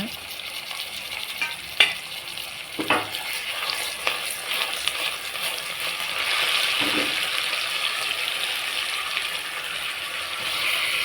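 Onions frying in a pan with ginger garlic paste for vegetable rice, a steady sizzle under scattered scraping and stirring clatter, close and continuous without any talk.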